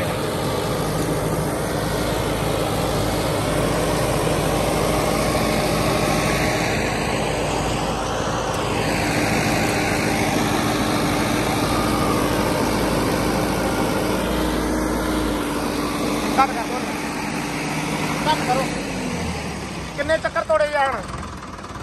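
A Sonalika 60 DI tractor's diesel engine runs steadily nearby with a constant low drone, under continuous talk, with a few clattering knocks near the end.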